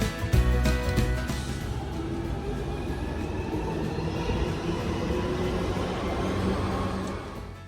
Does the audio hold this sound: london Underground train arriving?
yes